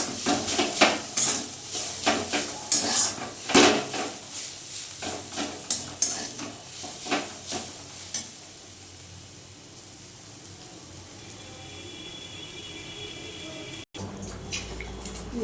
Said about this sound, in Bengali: চলো সুন্দর করে ভেজে নিই